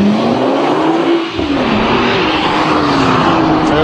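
A Nissan GT-R accelerates hard, its engine note rising steadily in pitch as it pulls away, loud and continuous throughout with a brief dip in the low end early on.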